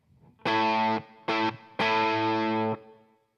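An electric guitar rings out through an amp in three strummed chords, full and slightly distorted, with a reverb tail fading after the last one.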